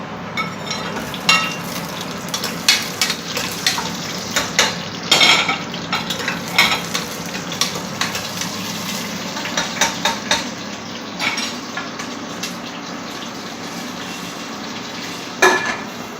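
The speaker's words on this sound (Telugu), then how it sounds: "సో ఇప్పుడు ఆనియన్ వేస్తాము" Onion fries in a pan while mutton biryani is being made, a steady sizzle under frequent scraping and clinking as a utensil stirs against the metal, close and moderately loud.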